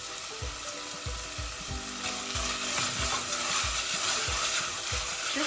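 Mint leaves frying with ginger and garlic in a pot for an Anglo-Indian lamb or mutton brown stew, a steady close sizzle broken by regular low scraping thumps of stirring, with no talk.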